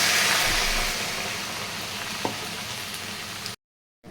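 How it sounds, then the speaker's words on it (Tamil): A loud, steady sizzle and bubbling rises from a pan of beans stir-fry after half a tumbler of water is poured in. It fades slightly before cutting off abruptly. "இப்போ ஒரு 1/2 டம்ளர் தண்ணி ஊற்றிட்டோம்."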